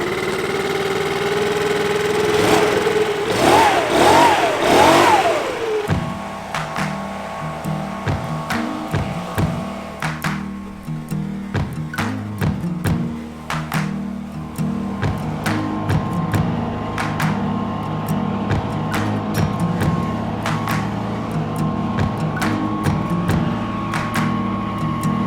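Four-stroke backpack leaf blower running steadily at a low idle-like pitch, with a brief rising revving at the start before it settles into a continuous engine drone; no talking.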